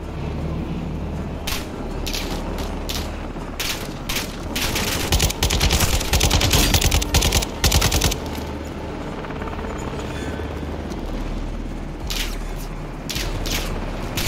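Rapid light machine gun bursts in Call of Duty: Modern Warfare II, loud and close, with dense crackling fusillades coming in repeated volleys over a low rumbling battlefield background.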